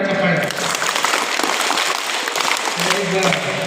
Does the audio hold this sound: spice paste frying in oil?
no